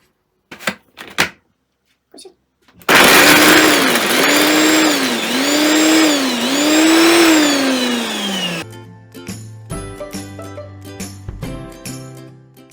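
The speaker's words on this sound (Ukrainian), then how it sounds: "перекладаю у комбайн, треба їх перебити." A food processor whirs loudly for several seconds chopping vegetables, its motor pitch rising and dipping, followed by rattling and clatter.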